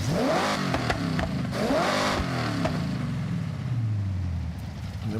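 A stock, unsupercharged car engine in the Forza Horizon racing game revs hard and then winds down, its pitch falling steadily as the rev fades. It is loud and close, with no talking.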